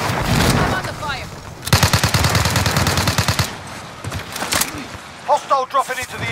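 Rapid automatic gunfire bursts from a Resurgence battle royale match, loud and close with sharp repeated shots, mixed with game effects and a voice speaking over it.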